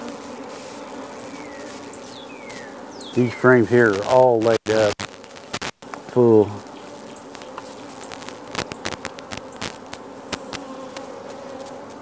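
Honey bees being shaken from frames into a starter hive: a constant buzzing swarm with sharp knocks and thumps from the shaking, while someone talks nearby.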